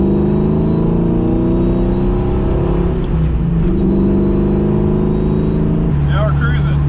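Steady engine drone and road rumble from a Ford Mustang Fox body convertible cruising at constant speed, a continuous loud hum with slight pitch shifts, open-air wind noise layered in.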